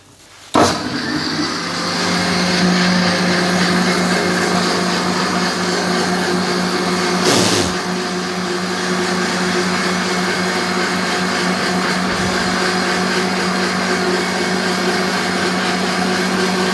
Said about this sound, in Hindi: इसको हम ब्लेंड करते हैं जी। चीनी अच्छी तरीके से मिक्स हो जाए।